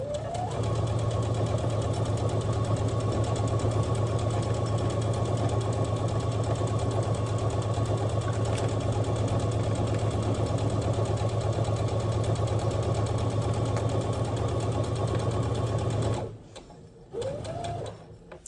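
A domestic sewing machine stitches drawstring backpack fabric in one steady, loud, continuous run, then stops abruptly near the end, followed by a brief restart and quiet handling.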